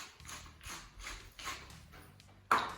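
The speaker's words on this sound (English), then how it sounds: "I'm going to add a good grinding of salt" A salt grinder turned in a home kitchen while cooking crispy fried gnocchi, giving a run of soft ratcheting grinds in uneven pulses, close and quiet, ending with a sharper knock.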